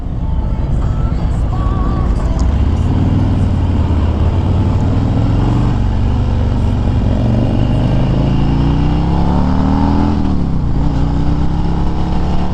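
A 2021 Harley-Davidson Road King Special motorcycle pulls away with a loud, close engine rumble that climbs through gentle revs and shifts, accompanied by steady wind noise.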